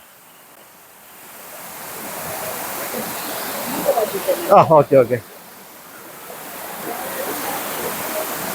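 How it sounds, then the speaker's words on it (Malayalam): Meenmutty waterfall at Banasura in Wayanad roars as a steady broadband rush that swells louder, while a person briefly speaks over it midway. "പിന്നെ ഇതാ ഈ മീൻമുട്ടി വെള്ളച്ചാട്ടവും. ഇതിന്റെ ഇരമ്പൽ കേൾക്കുന്നുണ്ടോ?"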